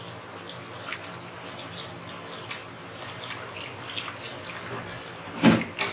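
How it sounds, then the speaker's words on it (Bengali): Chunks of pumpkin and fish are rinsed under running water in a small home kitchen. A faint, steady trickle of water carries on throughout, with a brief louder splash near the end. "সবগুলো এখন ধুয়ে নিব ভালো করে"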